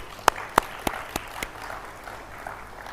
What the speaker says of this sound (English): have a big clap for her